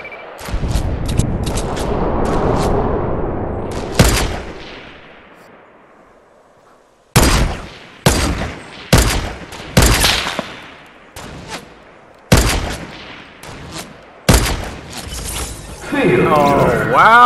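Gunfire in the Fortnite video game: bursts of sharp shots, some single and some in quick clusters, spread across the span with loud gaps between, over a steady game background.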